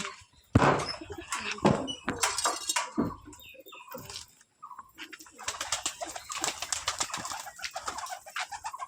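Pet pigeons coo inside their coop as a wooden door is opened to let them out into the winter sun, soft throaty cooing mixed with clatters, flapping wings and a pause before more cooing.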